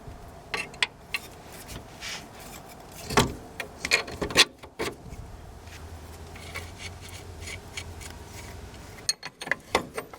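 Mechanical clicks and ratcheting from a ratchet tightening a coilover on a Mk2 Golf, in irregular bursts with a few sharper clacks and a low steady hum in the background.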